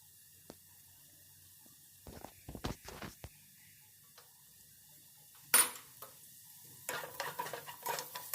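A medium chopped onion in hot oil in a pan, with quiet sizzling broken by several short bursts of scraping and stirring against the pan, one sharp clatter, then a longer spell of stirring near the end.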